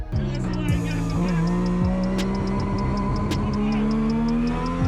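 Mazda RX-7 race car with a 20B three-rotor rotary engine driven hard, its rising and falling whine loud and close, with brief tire squeal and a voice talking over it.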